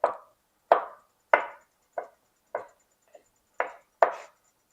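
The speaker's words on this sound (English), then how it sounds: "So I'm just chopping that, put it aside to get it ready" Food being chopped with a knife on a cutting board while cooking creamy pasta with beef: eight sharp, close chops in an uneven rhythm, each ending quickly, with no talking.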